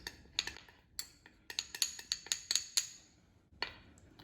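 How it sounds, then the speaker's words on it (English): Metal utensil clinking against a bowl while stirring brown sugar and ground cinnamon together, a rapid irregular series of sharp bright taps with brief pauses, close and fairly quiet. "For the filling, I have here a cup of brown sugar and 3 tablespoons of cinnamon, ground cinnamon, and I'm going to mix it."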